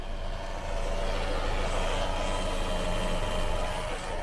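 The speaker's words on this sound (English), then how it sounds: "that whine is from the transmission pump." An idling car drones steadily with a thin, constant whine from a struggling transmission pump riding above the low engine rumble.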